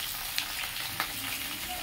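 Cauliflower florets coated in mustard oil fry in a pan for a fish and cauliflower curry, giving a steady close sizzle with a couple of faint clicks.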